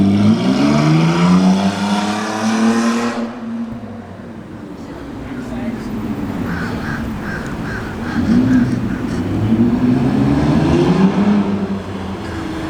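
A car engine revs and accelerates on a test drive after getting new tires, rising and falling in pitch, fairly close, with someone talking over the start and a crow cawing.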